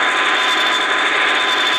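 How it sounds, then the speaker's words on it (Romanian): Private airplane flying overhead in a Minecraft game, a steady loud jet-like roar with a constant high whine, unbroken and close. "e ce mai un avion privat?"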